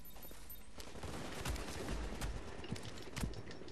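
Rapid gunfire in The Division's Dark Zone, with broadband shot bursts and sharp cracks scattered over a dense, continuous din of battle; no talking.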